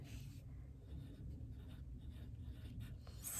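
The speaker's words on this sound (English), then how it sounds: "And then I'm going to write right below" A pen writes on a handmade Valentine's Day Friendship Seeds card, a faint, steady scratching of short strokes running throughout, close and quiet with no talking.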